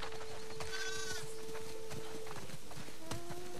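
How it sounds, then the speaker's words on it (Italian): A flock of sheep bleating on a farm in The Last of Us II, several wavering bleats in turn with hoof clip-clops and soft ambient noise underneath, fairly quiet overall. "Ormai comando il gregge."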